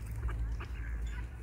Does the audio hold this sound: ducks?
yes